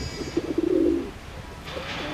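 Pigeons coo in a short rolling burst outdoors by a park stream, fairly close and clear over steady background noise, followed by fainter sounds.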